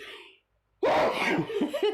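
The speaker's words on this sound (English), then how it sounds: "I knew I could feel that sneeze coming on." After a short pause, a single loud sneeze bursts out close by, followed by a breathy exhale.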